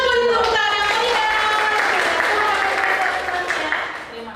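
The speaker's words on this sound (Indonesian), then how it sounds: "Kita tunggu tepuk tangan meriah." Audience applause at a school gathering, steady clapping under lingering musical tones and voices, fading toward the end.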